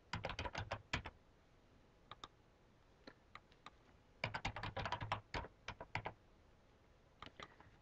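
Password being typed on a computer keyboard while setting up a WebLogic server domain: quick bursts of crisp, close key clicks separated by short pauses, with no talk.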